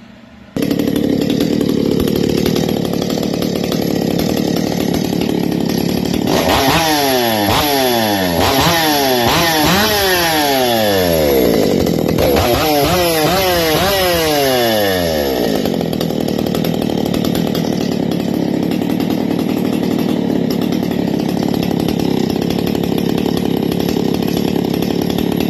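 A Shindaiwa 757 chainsaw with a homemade exhaust pipe idles steadily, then revs repeatedly in rising and falling bursts before settling back to a constant idle. The sound is loud and close, with no talking.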